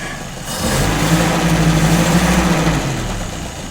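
A Citroën Traction car engine, fed through a carburettor with a glass fuel bowl, revs up from quiet and holds a smooth, close mechanical drone for a couple of seconds before easing back down.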